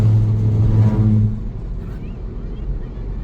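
Car rolling over rumble strips on the Ganga Expressway, producing a loud droning buzz that holds for over a second then drops away, leaving steady road and engine noise.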